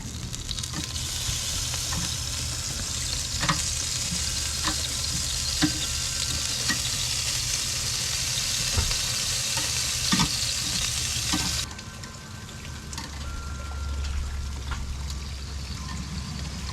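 Chicken wings sizzling on a Big Green Egg grill as they are flipped, a continuous loud crackling sizzle with scattered clicks and pops from tongs, easing slightly near the end.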